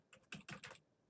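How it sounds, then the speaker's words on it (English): A short burst of typing on a computer keyboard: a handful of close, soft key clicks in a quick irregular run, with no talking. "I'm typing."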